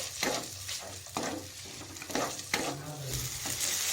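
Spices and tomato fry and get stirred in a pan for an eggplant and prawn curry, a steady close sizzle broken by repeated scraping strokes of the spoon.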